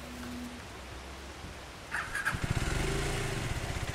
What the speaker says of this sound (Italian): Vabbè, basta andare sulla moto.